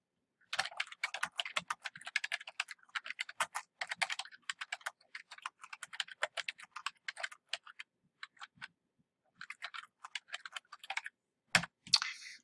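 Close, quiet typing on a computer keyboard: bursts of rapid key clicks in uneven rhythm, separated by short pauses, with a louder keystroke near the end and no voices.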